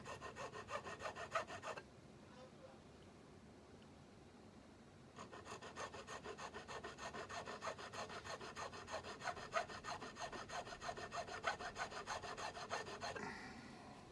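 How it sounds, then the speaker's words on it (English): Close, rhythmic rasping of a hand file working a Telecaster American Custom Shop guitar part, steady back-and-forth strokes with a short pause before filing resumes, alone without talk. "rather than you sit there and watch me do this filing for I don't know, half an hour"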